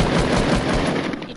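Rapid gunfire from the video game Fortnite, a dense, loud burst of automatic shots filling the moment with no pause and no talking.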